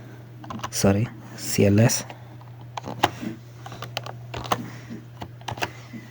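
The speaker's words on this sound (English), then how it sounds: "Let me type CLS." Typing a short command on a computer keyboard for a fingerprint capture program, with a few scattered key clicks near and clear, following two brief bursts of voice early on.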